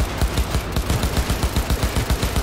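Rapid automatic gunfire from a weapon in the Cyberpunk 2077 video game, a steady burst of roughly a dozen close, punchy shots in quick rhythm with slight recoil, heard alone with no talking.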